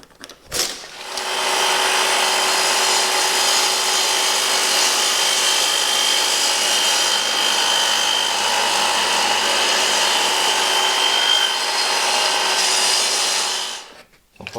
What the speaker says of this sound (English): So we'll cut this to 871, and then we'll trim it down to width.